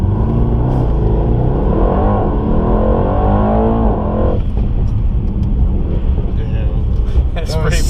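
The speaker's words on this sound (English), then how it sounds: "and that is launch control." 2018 Mercedes-AMG E63 S sedan doing a launch-control start, a loud rising engine roar through the gears followed by a shift and continued hard acceleration, with people talking and reacting inside the car.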